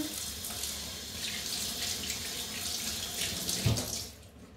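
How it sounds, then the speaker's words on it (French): Tap water runs steadily into a kitchen sink while someone washes their hands, a close, continuous hiss and splash with slight changes as the hands move under the stream, no talking. "je me lave les mains"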